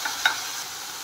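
Mushrooms and tomato puree sizzle in a pan as a utensil stirs them, with a couple of soft scrapes over a steady, faint frying hiss.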